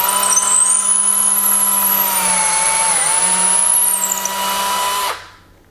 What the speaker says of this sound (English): now I'm going to drill a pilot hole with an 1/8 inch drill bit.